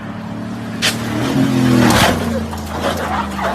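An SUV engine revs and the vehicle drives fast over a parking lot, trying to jump across parking spaces; a loud, close motor drone rising and swelling with a few sharp bumps and scrapes.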